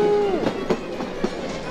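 A children's railway train runs through Buda in Budapest, a brief, close rumble with a rising whistle-like tone at the start and faint rhythmic clacks after it.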